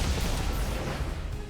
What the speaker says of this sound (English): That is the sound of an a area transition or a wall break.